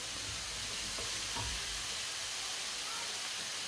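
Stuffing with grated ingredients sautéing in a pan while being stirred, a steady soft sizzle and hiss with a few scraping stirs, fairly quiet and close, no talking.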